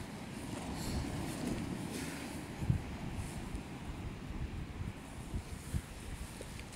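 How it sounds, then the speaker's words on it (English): Wind gusts steadily across an outdoor wild camp, a low, rumbling buffet with a few sharper gusts and buffets against the microphone, no voices. "I'm just getting a little bit of shelter here because it's pretty windy"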